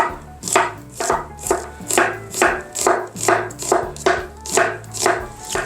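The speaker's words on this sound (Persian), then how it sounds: "اینا رو خلال نازک تا اونجا که میتونید خلال نازک برش بزنید." Knife slicing red onion into thin strips on a cutting board for a Gilan-style chicken dish, a steady run of about a dozen crisp, evenly spaced chops, close and clear with no talking.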